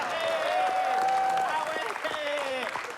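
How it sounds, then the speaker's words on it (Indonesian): Audience applause for a performer named Awe at an Indonesian comedy show, a steady wash of clapping over three seconds with a voice speaking and tonal music or sound effects running over it. "Tepuk tangan dong sekali lagi untuk Awe."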